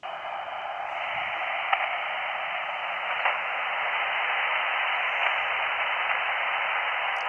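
Amateur radio receiver in a North Dakota parks-on-the-air setup with a Poseidon antenna, giving a steady, band-limited hiss of static that stays level throughout, with only a few faint ticks and no clear voice emerging.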